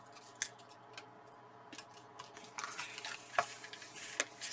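Scissors trim leftover paper scraps for a flip book with a few quiet, close, sharp snips and soft paper rustles, with no one talking.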